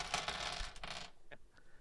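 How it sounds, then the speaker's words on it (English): A handful of tabletop role-playing game dice rattling and clattering across a surface in a short burst, followed by a couple of faint settling clicks. "I just rolled all my dice and I gotta tally it all up now"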